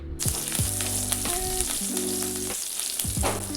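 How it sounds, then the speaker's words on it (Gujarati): Chopped green chillies and curry leaves sizzle loudly in hot tempering oil for a Gujarati sev khamani, a steady crackling hiss with a few scraping stirs, close by and with no talk. "થોડાક ઝીણા સમારેલા મરચાં ઉમેરી દઈશું અને થોડાક મીઠા લીમડાના પાન ઉમેરી દઈશું. તો હવે આ વઘારને એકદમ સરસ રીતે સાતડી લેવાનો છે."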